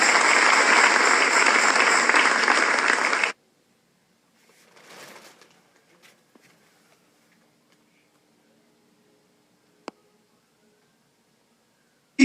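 A church congregation applauds during a Spanish-language sermon: dense, loud, steady clapping for about three seconds, then it stops abruptly, leaving near silence with a few faint knocks and one sharp click.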